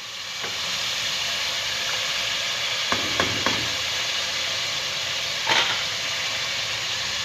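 Garlic ginger paste hitting hot oil in a pan for a chicken and chickpea curry, a loud, steady close sizzle and hiss with a few brief clicks and stirring knocks, no voices.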